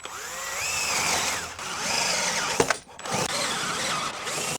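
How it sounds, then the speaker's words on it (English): A power drill bores holes in repeated bursts, its motor whining up and down in pitch with a brief clatter and pause between passes, close and loud with no talk. "I need to drill another set of holes here"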